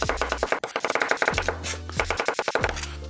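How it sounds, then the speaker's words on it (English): A knife quickly chops a sweet onion on a cutting board, giving a fast run of sharp, close taps in irregular bursts, loud and clear with no talking. "I'm using a sweet onion because it's what I had. Now, just a quick chop."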